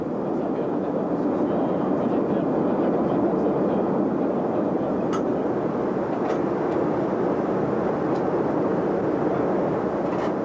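A DC-8 jet airliner, registered in Bermuda, gives a steady, unbroken roar of engine and cabin noise that holds evenly loud for the whole stretch with no voices.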